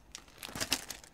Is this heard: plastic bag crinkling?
yes